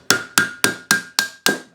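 Hammer strikes on a metal cuff bracelet held on a mandrel to flatten it, seven sharp ringing blows at a steady, even rhythm, close and loud with no voices.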